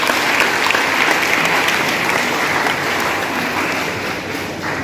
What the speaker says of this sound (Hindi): उनके लिए तालियां बजा दो एक बार।